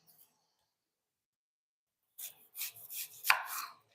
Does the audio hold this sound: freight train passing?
no